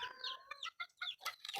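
Young chicks, a cross between colored chickens and village chickens, cluck and peep in quick, close bursts, faint overall.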